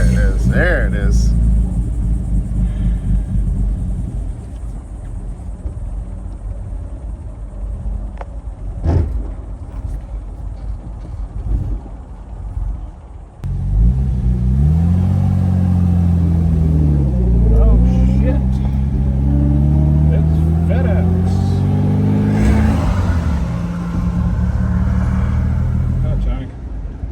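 A 1957 Lancia Aurelia B24S Cabriolet drives in fourth gear, its engine a steady low rumble with wind noise, rising into a stronger, fuller drone partway through as it pulls under load, with people talking over it.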